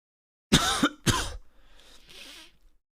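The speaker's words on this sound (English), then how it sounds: "The man begins to cough and gasp for air." A man coughs twice in sharp, close bursts, then follows with a faint, breathy rasping gasp as the sound trails off.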